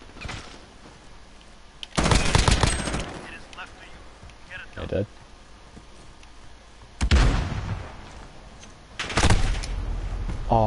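M4 rifle gunfire in Modern Warfare, several loud bursts of automatic fire separated by quieter stretches of game ambience.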